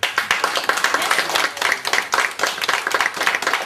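Retirement home audience applauding in a loud, busy patter of many hands, continuous and fairly close, with individual claps audible within the steady crowd clapping.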